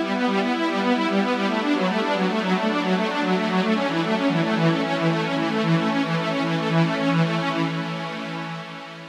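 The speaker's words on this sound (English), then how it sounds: "the arpeggiator is going to convert that into single notes" Logic Pro arpeggiator breaking held chords into single notes, a fast, steady stream of bright synth tones cycling evenly throughout and thinning near the end, with no talking.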